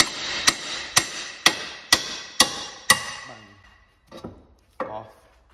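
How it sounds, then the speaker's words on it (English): Six sharp, evenly spaced hammer blows ring out against the suspension knuckle of a Mini R53 during engine removal, each a loud metallic crack with a short decay, followed by a pause and two fainter clanks; no talking. "So to do that, use a hammer."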